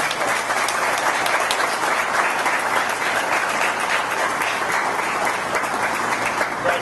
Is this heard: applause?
yes